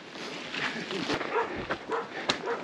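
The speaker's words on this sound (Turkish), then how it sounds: "Bir kapıştılar ve hala havlıyorlar birbirlerine." Several dogs bark and yip at each other after a scuffle outdoors on a hiking trail near Fuego volcano, sharp repeated barks rising over wind and distant voices.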